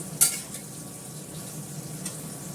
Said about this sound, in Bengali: ওদিকে ডাল ফোড় হয়ে গেল, পটলটা ভাজছি